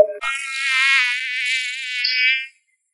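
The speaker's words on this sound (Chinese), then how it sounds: "这是蚊子叫" A mosquito buzzes in a thin, high, wavering whine, close and alone, lasting about two seconds before stopping abruptly.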